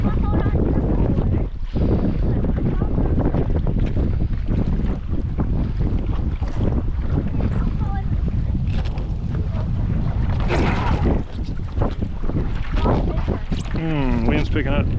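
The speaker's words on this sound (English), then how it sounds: "Wind's picking up." Strong wind buffets the microphone in continuous roaring gusts while windsurfing on Pungo Creek near Belhaven, North Carolina, with water splashing around the board and people talking and shouting over it.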